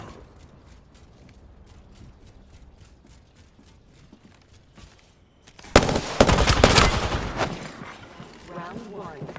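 Gunfire in Apex Legends duos erupts in a loud, dense burst of rapid shots partway through, preceded by quieter mechanical clicks and game ambience.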